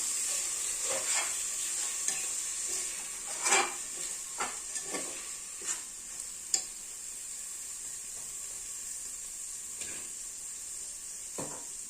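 Ingredients are stirred in a pot of khichuri made with Gobindobhog rice, with a continuous hissing sizzle under scattered spoon scrapes and metallic clinks against the pot.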